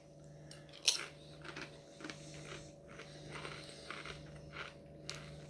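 Someone chewing crunchy crisps close to the mic, a series of soft irregular crunches at a steady pace against a faint hum.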